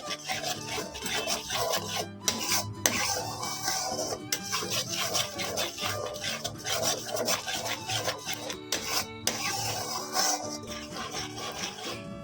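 A cashew, mustard and yogurt masala stirred in a pan, repeated scraping and rubbing strokes of a spatula against the metal in an uneven rhythm, close and fairly loud with brief pauses between strokes.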